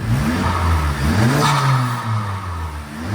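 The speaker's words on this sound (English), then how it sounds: "Go ahead, give it a rev, let's hear it." A 2023 Honda Civic Type R engine fitted with an HKS SQV4 blow-off valve and recirculation kit revs loudly up and back down nearby, a steady whirring drone rising and falling without talk.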